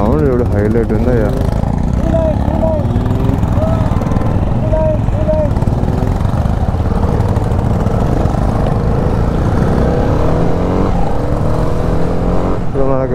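Engines of a big group of Honda motorcycles riding together on a highway drone in a steady, loud roar with shifting pitch, while people talk over the noise.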